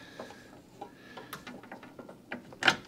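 Socket ratchet clicks in a quick, irregular series of small ticks while fitting parts on a diesel heater, close and fairly quiet with a sharper clack at the end.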